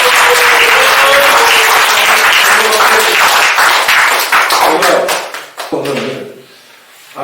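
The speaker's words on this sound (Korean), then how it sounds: "박수 쳐주시고" Audience applause at a Gyeonggi Province education campaign rally, loud sustained clapping from a crowd that thins into a few last claps before fading to near quiet, with a voice briefly heard near the end.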